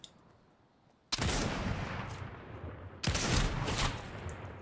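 Fortnite gunfire, two loud sudden bursts of shooting about two seconds apart, each a dense rattling volley that rings on after a quiet start.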